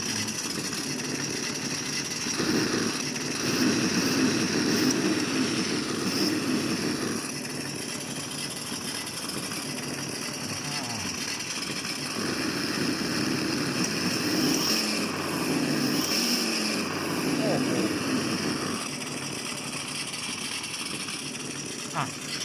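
A simulated engine sound module in a 1/10 scale off-road RC crawler plays a growling, idling engine note that rises and falls over about twenty seconds, with someone talking over it throughout.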